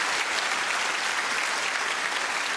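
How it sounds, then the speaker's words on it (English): Steady dense applause from a comedy club audience, continuous and loud throughout, with no talk over it. "Round of applause for the Star Wars fan."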